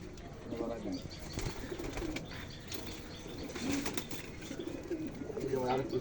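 Racing pigeons coo in repeated low throaty calls, with some wing flapping and a voice talking faintly among the birds.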